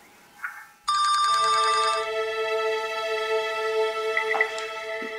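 A telephone rings with a loud electronic trilling ring starting about a second in and continuing steadily, near and clear, after a faint brief sound at the start.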